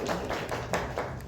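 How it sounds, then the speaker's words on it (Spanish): Classmates give a short round of applause in a school lesson, a few scattered, uneven claps over roughly a second, fairly quiet and without voices. "ese es un aplauso por Doris"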